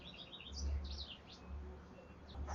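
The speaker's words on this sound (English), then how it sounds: "I'm sure you can hear the birds." Birds chirp and tweet in short bursts over a steady low outdoor rumble in the morning, fairly faint and scattered across the whole stretch.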